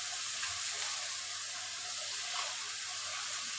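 Cabbage frying in a pan with chicken bones, a steady dense sizzle holding at an even level throughout, close, with no talking.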